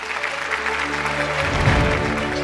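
A crowd claps steadily, growing fuller and louder partway through, sustained applause in a large room at a business awards ceremony.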